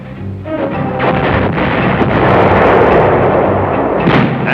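Heavy field artillery fire rolls as a continuous, loud, booming rumble with dense low-end roar, building and sustaining for several seconds without pause.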